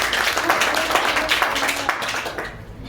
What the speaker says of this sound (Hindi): एक बार उनके लिए तालियां।